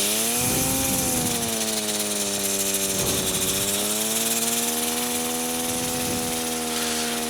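A small airplane engine revs up with two people aboard, a loud, continuous droning hum with steady harmonic tones rising slightly as power increases, close and unbroken throughout.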